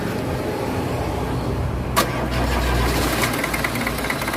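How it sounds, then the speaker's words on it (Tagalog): An Isuzu 4BA1 diesel engine runs after an injector nozzle repair, a steady low rumbling idle with a brief knock and a slight rev midway, heard up close. "Testingin na lang kung sasabit pa o iingay pa yung kanyang nozzle."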